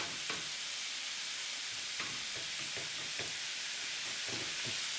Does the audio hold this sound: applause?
no